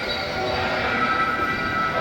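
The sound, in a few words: passing train near a mall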